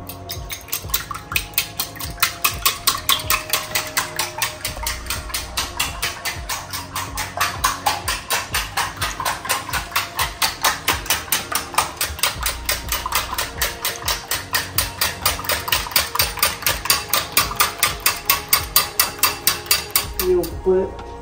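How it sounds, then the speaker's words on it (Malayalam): Two eggs whisked briskly in a bowl for a Thalassery-style double omelette, a steady rapid clatter of fork or whisk against the bowl keeping up for about twenty seconds, close and fairly loud. "മുട്ട ഒന്ന് അടിച്ചു വെക്കട്ടെ കുറച്ച്."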